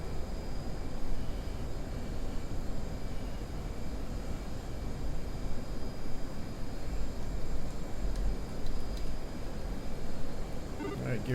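Military jet taking off in the DCS flight simulator, its engine a loud, steady roar that holds for the whole stretch.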